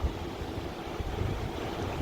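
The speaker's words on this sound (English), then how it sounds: "A little bit windy, but it's like a nice little breeze and it's warm." Steady wind rushes and buffets outdoors by a river, a soft continuous warm breeze with faint gusts and no voices.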